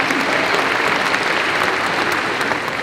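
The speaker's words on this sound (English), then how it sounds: "let's give them another round of applause as well" Continuous, dense audience applause at a high school graduation ceremony, loud and even across the whole stretch with no voices rising above it.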